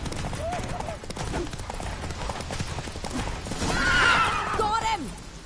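Geralt's horse Roach in The Witcher 3 gallops with fast, rhythmic hoofbeats, and loud whinnies break in near the end, over voices and background game sound.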